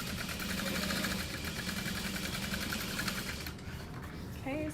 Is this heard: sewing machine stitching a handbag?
yes